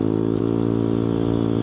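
A Yamaha Aerox V3 scooter engine held at full throttle in touring mode gives a steady, loud, even mechanical drone with a fairly constant pitch, heard alone at close range.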